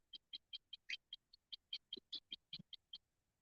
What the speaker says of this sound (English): That's another cool bird sound.